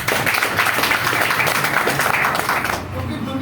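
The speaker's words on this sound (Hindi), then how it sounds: "एक बार जोरदार तालियां।" An audience at a health talk breaks into dense, sustained applause that fills most of the moment before tapering off near the end, with a voice faintly mixed in.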